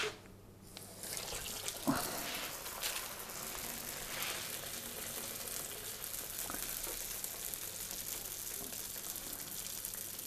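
Panzerotti frying in deep hot oil, a steady bubbling hiss that stays fairly faint and close throughout, with a small clunk near the start.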